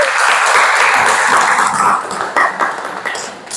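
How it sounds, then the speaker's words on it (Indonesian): A class applauding in a classroom, a burst of many hands clapping close by that thins out and grows more scattered toward the end. "Tolong tepuk tangan"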